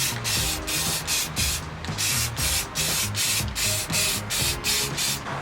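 Aerosol can spraying rust protection paint onto a newly welded truck floor in a Ford Ranger, a loud hissing spray in repeated bursts with short regular gaps under a rhythmic background clatter.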